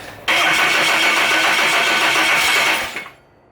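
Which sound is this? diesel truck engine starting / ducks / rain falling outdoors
diesel truck engine starting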